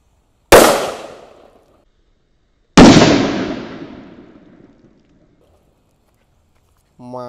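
Two loud sunflower firework bursts a couple of seconds apart, each a sharp crack trailing into crackling decay, with a brief voice starting at the end.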